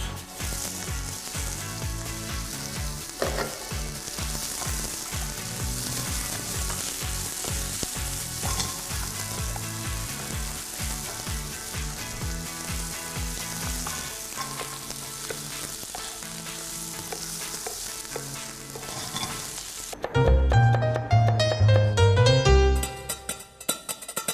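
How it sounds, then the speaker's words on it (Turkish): Onions sizzle and crackle steadily in a hot pan, a continuous frying hiss with occasional stirring, ending in a louder burst of clattering noise. "Soğanlarımızı kavuruyoruz şu anda."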